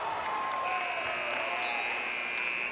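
An end-of-quarter buzzer sounds during a boys high school basketball game. A steady electronic tone holds over loud crowd noise and cheering in the gym.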